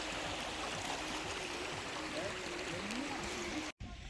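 Water pours down at Mirchaiya waterfall in a continuous broadband rush, loud and close, with a brief dropout near the end. A voice talks faintly underneath.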